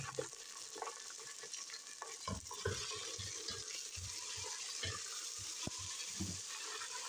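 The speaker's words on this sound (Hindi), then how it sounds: "अब मैं इसमें बीफ डालूँगी" Beef frying with golden onions in a pot gives a continuous hiss, with the rhythmic scrape and knock of a spoon stirring through it, fairly quiet and close, with no voices.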